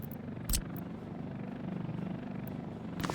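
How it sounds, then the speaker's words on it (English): Helicopter flying in the city-building game Workers & Resources: Soviet Republic, a steady low rotor drone held throughout at moderate level with brief louder bursts, no talking. "so you'll be able to use helicopters."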